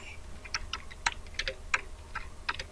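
Someone types text on a computer keyboard, producing a sparse, irregular run of crisp, close key clicks over faint background hum.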